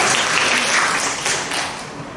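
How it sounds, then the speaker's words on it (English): Audience applause for student English presentations, a dense wash of clapping from a room full of people, loud and steady for about two seconds before easing slightly, with no voices on top. "you actually deserve a round of applause"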